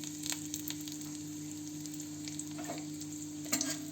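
Cumin, crushed cinnamon, cardamom and bay leaf sizzle softly in hot oil for a tempering, a faint steady fry broken by light crackles. A small utensil tap and a stir come near the end.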